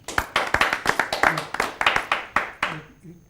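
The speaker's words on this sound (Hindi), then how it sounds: "ज़ोरदार तालियों से आप स्वागत करें।" Audience clapping to welcome a humorous-satirical poet at a Hindi poets' gathering: a brisk run of sharp, closely spaced claps, fairly near and loud, tapering off after about three seconds.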